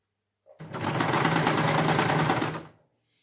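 A sewing machine stitches zigzag lace onto a plain dupatta in one steady, rapid whirring run of about two seconds, close and loud, starting and stopping cleanly with no voices.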